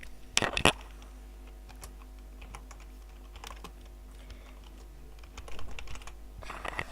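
Keys clatter on a computer keyboard as a nickname is typed for the game Agar.io, a loud burst of rapid strokes near the start, then scattered taps and a busier flurry toward the end, with no talking.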